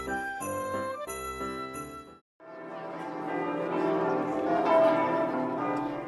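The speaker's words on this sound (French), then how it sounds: "les cloches sonnaient à toute volaille" Church bells ring out for Christmas midnight mass, a few clear chimes first, then after a brief gap a dense, sustained wash of overlapping peals fills the air at steady volume, with no voices.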